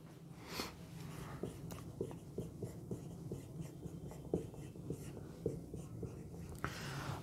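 Chalk or marker strokes on a board during a maths lecture on differentiation, an equation being written in short repeated taps and scrapes, close and moderately loud, with faint background hum.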